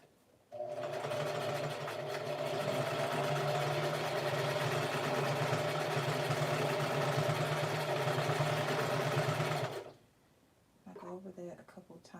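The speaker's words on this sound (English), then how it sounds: "pin the 2 pieces together, and I sew down the length of it" A sewing machine stitches a long seam through two pinned pieces of fabric, a steady fast mechanical whir running for about nine seconds before stopping abruptly, followed by someone briefly speaking.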